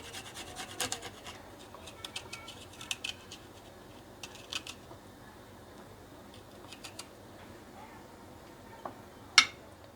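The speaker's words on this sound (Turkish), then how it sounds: "rendenin ince gözüyle rendeliyorum ben sarımsaklarımı" Fresh garlic cloves are rubbed over the fine side of a kitchen grater while preparing yogurt for an eggplant salad, giving soft irregular rasping scrapes in bursts, with one sharper knock near the end.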